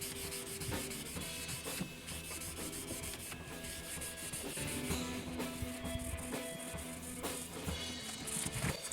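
Steady, close rubbing and scrubbing as finish is worked into the wood of a 1990 Jackson Kelly STD guitar, a continuous dry friction texture with faint background tones and no speech.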